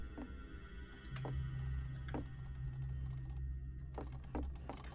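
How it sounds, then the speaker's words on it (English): Mechanical printer machine in Garry's Mod, a steady low hum with repeated clicking and ticking strokes at a regular rhythm, fairly close and continuous throughout. "Oh, the sounds of this printer thing."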